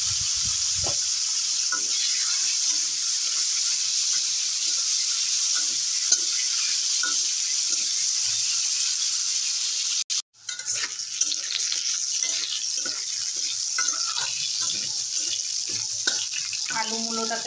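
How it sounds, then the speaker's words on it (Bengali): Potatoes and radish fry in a pan with a steady, loud sizzle throughout, broken by a brief cut near the middle, as a spatula stirs them with soft scraping. "আলু মূলোটাকে খুব বেশি কষাবো না, হালকা করে কষিয়ে নিলাম"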